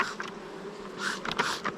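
Honey bees buzz around an opened hive during a mite check after being sprayed with mint water, a steady close drone with brief louder swells and no voices.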